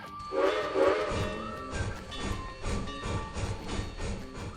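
A steam train whistle blows a sustained, hissing blast. It is followed by the steady, rhythmic chuffing of the locomotive rolling along, loud and close.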